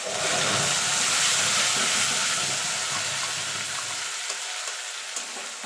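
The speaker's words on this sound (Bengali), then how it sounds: "দিয়ে মশলাটাকে মিনিট খানিক ধরে কষিয়ে নেব" A masala of onion, ginger, tomato and dry chili fries for potato dum in a hot pan, giving a loud, dense sizzle that eases off slightly toward the end, close and without voices.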